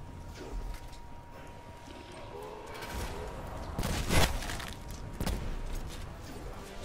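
Gunfire in Black Ops 4 Zombies with the Outlaw rifle after Pack-a-Punch, a few heavy single shots spaced seconds apart over low game ambience.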